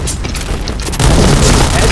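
Grenade going off in a first-person shooter while using the Kriss, a loud low boom that swells midway and rumbles on steadily.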